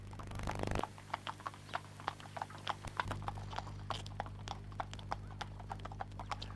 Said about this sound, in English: Meanwhile, Des was having his first gallop of the season.